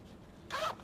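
A single quick zipper pull, a short bright rasp lasting under half a second, close and fairly soft against quiet room noise.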